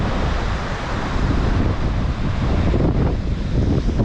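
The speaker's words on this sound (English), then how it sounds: "there's some serious waves out there" Heavy ocean surf after a hurricane, churned into foam, roars steadily and loudly while strong wind buffets the microphone throughout, with no voices.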